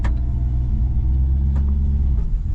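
A vintage Chevy C10 truck that sat for 33 years runs with a loud, low rumbling engine idling close by, steady and rough, with a couple of brief clanks.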